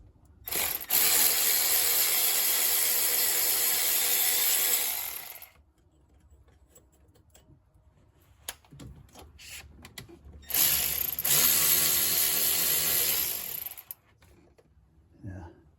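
A ratchet turns bolts on a Hyundai Tucson AC compressor in two bursts of rapid, close clicking, with quiet gaps and a few isolated clicks in between.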